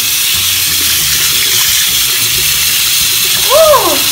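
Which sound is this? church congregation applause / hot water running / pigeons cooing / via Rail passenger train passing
hot water running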